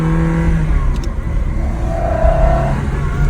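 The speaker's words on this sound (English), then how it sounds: "You can't beat a naturally aspirated Ferrari V8." A naturally aspirated Ferrari V8 engine in a Ferrari 360 Spyder revs hard and loud, climbing in pitch, then settles and surges again, heard up close with no talking.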